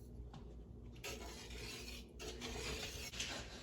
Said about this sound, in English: Now we're going to stir.